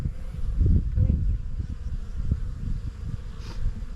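Honeybees swarm around frames of a young ten-frame hive, their steady close buzzing droning low and continuous, with louder passes as individual bees fly near.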